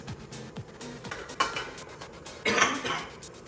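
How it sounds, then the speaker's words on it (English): Metal pots and a steamer being set up on the stove for steaming an Oreo cake, a few sharp clanks and clinks of cookware spaced out, the loudest knock near the end, close and with no speech. "we'll set up our steamer"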